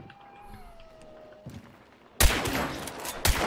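A gunfire burst in the Hunt: Showdown game, loud and abrupt after a quiet stretch with a faint tone and small clicks, then a second sharp shot near the end.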